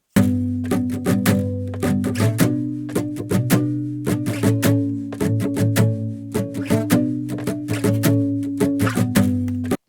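Guitar chords strummed hard with a heavy pick over a rubber bridge mute, choppy with a muted, percussive attack, each stroke short and thumpy in a steady driving rhythm.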